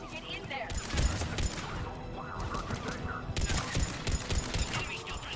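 Sustained gunfire in Mass Effect Legendary Edition, bursts of rapid shots crackling in clusters at moderate distance, separated by brief lulls, mixed with battle noise and faint voices.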